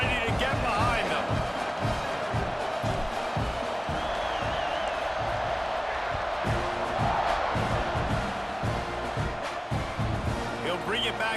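Stadium crowd in College Football 26 at an Aggies game roars steadily and loudly after a touchdown kickoff, a dense sustained wall of cheering and whoops with a commentator talking over it.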